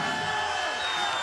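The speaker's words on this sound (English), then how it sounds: "Great crowd out here in Los Angeles, California." A large crowd at MMA open workouts in Los Angeles, California, a dense continuous roar of cheering and shouting voices throughout, loud and close.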